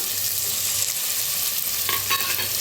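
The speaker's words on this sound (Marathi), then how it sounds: "आता बटाटो भी छान भाजले बघा टाकू तंबाटो" Potatoes and tomatoes fry in a pan for masala rice, giving off a close, continuous sizzle with brief crackling bursts as the pieces are stirred.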